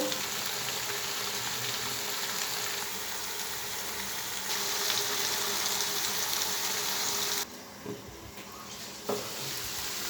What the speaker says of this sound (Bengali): আবার একটু নাড়াচাড়া করে নিই তরকারিটা